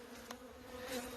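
Honey bees buzz steadily around a Michigan hive during spring build-up, a continuous droning hum that swells slightly toward the end, close and moderately loud with no voices.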